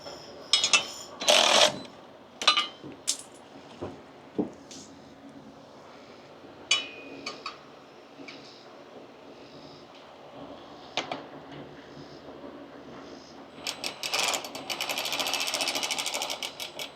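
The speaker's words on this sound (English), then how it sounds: "I'm going to secure the 2 bolts on the inside of this" Two bolts being secured inside a truck during a modification, with scattered metallic clicks, ratcheting bursts and clanks, ending in a longer buzzing ratchet run.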